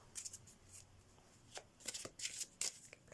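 Oracle cards shuffled by hand for a tarot reading, soft irregular riffling and slapping of card stock, close and quiet, growing busier toward the end.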